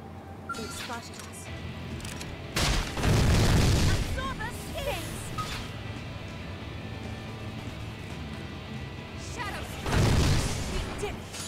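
Disc bombs explode in a video game in two loud, booming bursts a few seconds apart, each rolling out over background game sounds.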